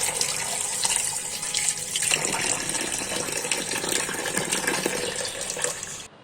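Tap water runs steadily into a sink while a kham potato is washed, a bright continuous splashing that shifts slightly in tone partway through and stops abruptly at the end.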